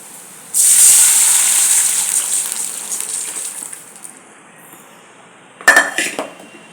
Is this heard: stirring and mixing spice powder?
yes